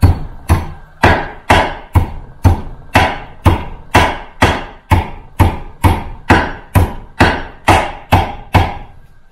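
A small hammer strikes a trailer hub in a steady, loud, evenly spaced rhythm, about eighteen sharp metallic taps each ringing briefly before the next.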